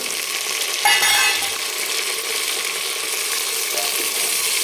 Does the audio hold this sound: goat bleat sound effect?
no